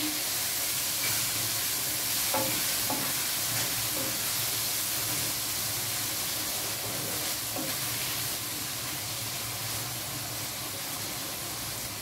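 Sauce with homemade chili flakes stirred in a hot pan for sarciadong galunggong with shrimp, a steady loud sizzle and hiss throughout with faint scraping from the stirring.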